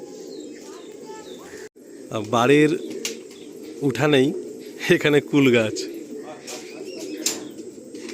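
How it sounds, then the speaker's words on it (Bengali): Tournament racing pigeons coo in a low, steady murmur at a large loft in West Bengal, with someone talking over them in several bursts. "পায়রাগুলো এখানে এসে ঘাস পাতা সব কিছু খায়"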